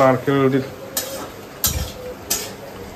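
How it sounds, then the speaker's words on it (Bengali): Grated coconut frying in a pan for khichuri, with clinking utensil strikes and scraping against the pan over a faint sizzle, a brief voice or tone at the start, close by. "নারকেল ভাজছে খিচুড়ির জন্য।"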